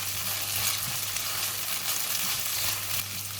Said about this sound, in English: I'm going to start frying the vegetable now. I'm going to put in the carrot first